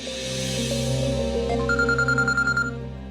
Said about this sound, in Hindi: फोन उठा, चल उठा फोन।